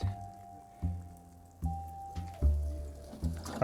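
Water poured onto garden soil in an outdoor garden plot, giving several soft, wet squishing and dripping bursts at irregular intervals, fairly close and quiet, with a faint steady hum underneath.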